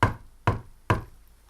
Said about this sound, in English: Elizabeth grabbed the knocker and banged on the door again.